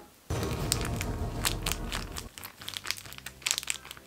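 Close crinkling and crackling of tape being pressed and smoothed down to seal a slime-filled squishy, continuous at first, then breaking into short irregular bursts.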